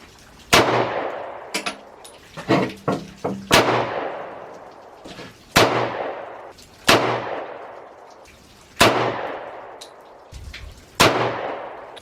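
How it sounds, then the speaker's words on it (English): Loud 10mm pistol shots from an M&P 2.0 firing 200-grain aluminum-case ammunition outdoors, about eight sharp reports with ringing decay spaced a second or two apart, plus some quicker bursts early on. "But now he's going to try the 10mm with the aluminum case 200 grain laser aluminum."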